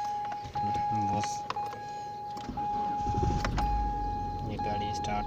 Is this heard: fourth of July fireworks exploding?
no